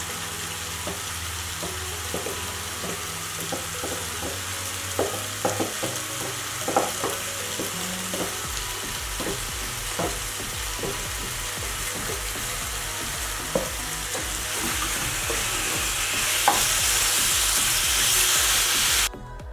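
Seasoned fish frying in a pan with onions nearby, a steady sizzle dotted with sharp crackles and spatters that swells into a louder, denser hiss near the end.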